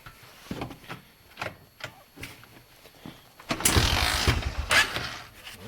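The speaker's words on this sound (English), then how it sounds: "So I can kickstart it. I can get it to run." Small engine being kickstarted: several short mechanical clunks and ratcheting kicks, then a louder burst as the engine briefly turns over and sputters, fairly close.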